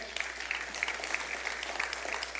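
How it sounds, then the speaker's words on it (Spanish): A church congregation applauds faintly, a soft, fairly even patter of many hands clapping that sounds distant and quiet. "¿Alguien puede darle un aplauso al Señor?"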